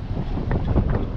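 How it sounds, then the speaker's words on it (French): Strong 20–25 knot wind buffets a sailboat leaving La Línea de la Concepción near Gibraltar, a dense, steady low roar of gusts and wind rush across the microphone with faint water and rigging sounds beneath, no voices. "Alors il y a du vent 20-25 nœuds"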